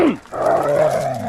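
A dog at a group training class snarls angrily at another dog, a sharp yelp followed by a loud, sustained close growl.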